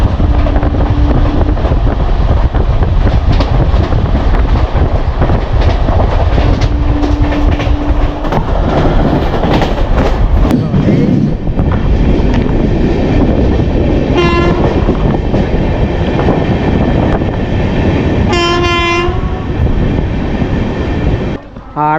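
A passenger train, the Amrit Bharat Express, rumbles and clatters loudly along the rails, with its horn sounding a few times, arriving at Bolpur Shantiniketan station.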